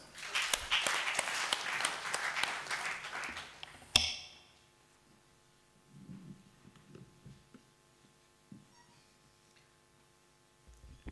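An audience at a local government training institute convocation clapping to welcome a speaker, a fairly loud burst of applause lasting about four seconds that ends in a sharp knock, followed by quiet room noise and faint shuffles.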